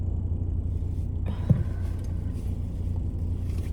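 A car heard from inside as it drives, with a steady low engine and road rumble throughout, a brief thump near the middle and no talking.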